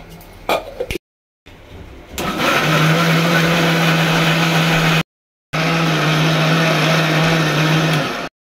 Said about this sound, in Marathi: मिक्सरला आता वाटण करून घेते